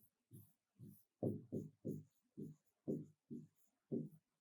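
Chalk or marker strokes on a classroom board come as about nine short scratchy bursts in a steady rhythm, close and clear, with no voice over them.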